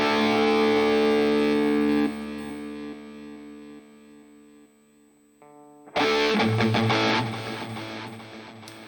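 An electric guitar played through the screamer overdrive effect of a Digitech GSP 1101 rings out sustained, slightly driven chords that decay, then a fresh, louder strummed chord cuts in.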